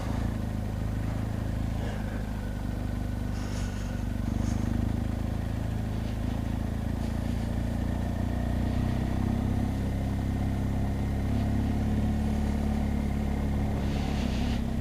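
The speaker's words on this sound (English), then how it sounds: "I'm on a motorbike." Steady low engine rumble of a motorcycle on the move, constant and close, with wind noise and light clatter throughout.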